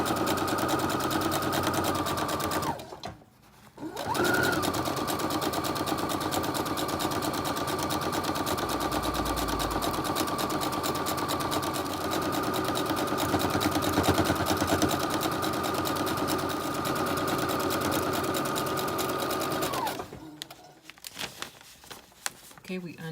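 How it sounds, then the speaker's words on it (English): A sewing machine understitches a garment's neckline facing, humming in a fast, continuous stitching run that pauses briefly once, then resumes for a long stretch before stopping. "Okay, I'm getting ready to do that understitch"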